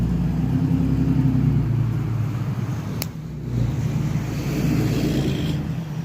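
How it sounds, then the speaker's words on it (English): A diesel pickup truck engine with a failed rear main seal runs close by, its deep, loud, continuous rumble swelling slightly as it revs. No voices are heard. "Badass diesel."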